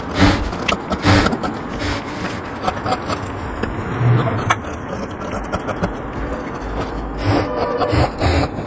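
Scissors cut through blouse lining fabric in a steady, continuous rasping and scraping, close and fairly loud throughout, with faint room noise behind.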